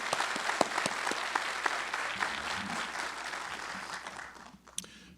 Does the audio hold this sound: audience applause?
yes